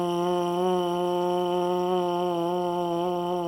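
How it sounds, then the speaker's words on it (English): A trombone mouthpiece buzz started on the syllable ta holds one steady, bright, reedy tone for about three and a half seconds. It stays loud and close throughout, with no accompaniment. "Start your buzz with the syllable ta and buzz through the center of your lips, keeping your airstream steady."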